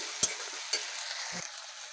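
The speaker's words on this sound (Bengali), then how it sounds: "নুন দিয়ে ভালোভাবে কষিয়ে দিয়ে দেব বাটা মশলা গুঁড়ো মশলাগুলো" Ground spice paste with salt sautéing in hot oil, a soft steady sizzle with a few brief scraping stirs of a spoon in the pan.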